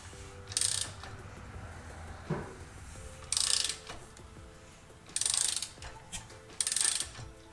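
An engine turned over slowly by hand, its timing belt giving several short, sharp snapping and clicking bursts as it shifts position, with quiet mechanical rattling in between.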